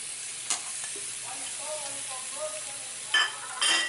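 Tomato, onion and bell pepper sizzle in a pot for a vegetable soup, a faint steady hiss with a few utensil taps and louder bursts of frying toward the end.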